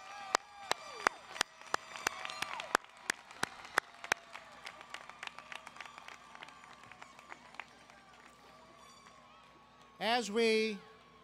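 Scattered applause for bachelor's degree recipients at a 2018 afternoon commencement ceremony, faint and sparse individual claps thinning out over several seconds, followed by a brief voice near the end.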